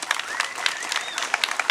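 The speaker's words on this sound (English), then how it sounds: "All right, round of applause for Cliff." Brief audience applause closing a TEDx pop-up talk in San Antonio, a scattered patter of claps with some crowd murmur lasting under two seconds.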